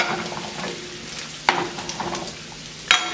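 Bacon frying in a pan set off the flame onto another burner, a steady close crackling sizzle with a couple of sharp louder pops, no talking.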